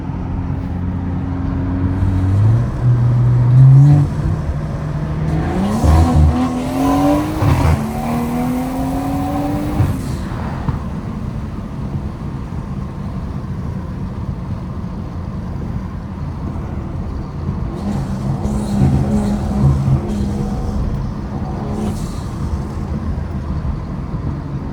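A BMW with a turbocharged B58 engine accelerates hard, its engine note rising through several revving pulls before settling into a steady, loud drone of cruising, heard close from inside the car.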